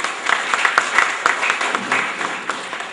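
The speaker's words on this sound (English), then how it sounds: "could I please have another round of applause for Sayed Abdul Wajid?" An audience at a formal educational event claps steadily throughout, a dense, even wash of applause with scattered sharper hand claps standing out, moderately loud and close.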